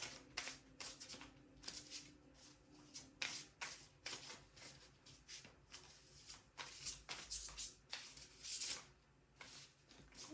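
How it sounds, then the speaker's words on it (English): Tarot cards shuffled by hand in a steady run of riffling and flicking bursts, close and fairly quiet, with no talking. "And I'm going to get 3 shuffles over here."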